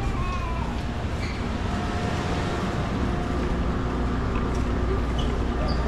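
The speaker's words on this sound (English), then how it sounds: "The train is here." A steady, loud rumble of a Taipei MRT metro train pulling into a station fills the clip, with rolling mechanical noise and faint squeals over constant low hum.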